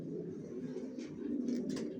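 Johnson line racer pigeons in a loft coo steadily, a dense, close murmur of overlapping low throaty calls running continuously with no voices.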